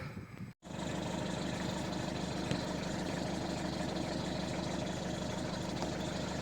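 A vehicle engine runs steadily while driving out to an orchard on a frosty morning. After a brief dropout near the start, it settles into a continuous, even hum with a low rumble.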